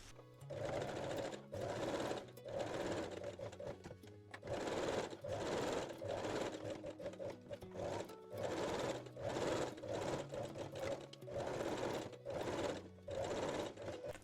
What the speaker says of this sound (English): top stitch and stitch the seam allowance to the one side with long straight stitch